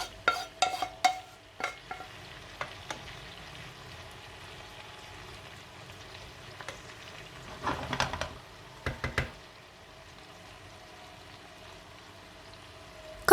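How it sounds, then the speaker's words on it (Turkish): Zucchini searing in a little oil over high heat, a quiet sizzle under sharp utensil clicks and scrapes as the pieces are stirred in the pan, no voices. "Az yağda ve yüksek ateşte kesinlikle tuz eklemeden kabaklarımızı mühürlüyoruz."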